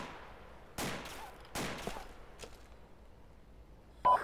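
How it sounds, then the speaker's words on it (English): Gunshots and grenade blasts in the Arma 2 military shooter, several sharp distant cracks and thumps spaced irregularly, with a short louder burst at the end, no talk over them. "There are grenades and gunshots going off directly southwest of the C1 marker."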